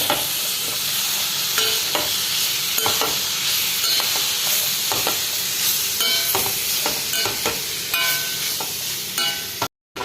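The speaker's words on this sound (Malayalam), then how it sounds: "ഈ എണ്ണയിൽ ഈ അരപ്പിട്ട് ഇളക്കുന്നത് ആദ്യം ഇതിലേക്ക് അരിഞ്ഞു വച്ചിരിക്കുന്ന വെള്ളരിക്ക അതിലേക്ക് ചേർക്കാം ഇളക്കി" Chopped cucumber is stirred into a spice paste frying in hot oil for Kerala-style vellarikka thoran. A loud, continuous sizzle runs under repeated scraping stirs of a spoon, briefly cutting out near the end.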